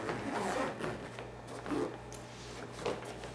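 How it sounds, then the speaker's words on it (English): A pneumatic compression boot for edema being zipped closed on the leg, with several close, short rasping zip pulls spaced a second or so apart in a quiet room. "And then this just zips up."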